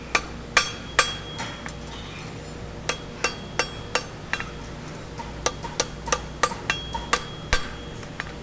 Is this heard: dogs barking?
no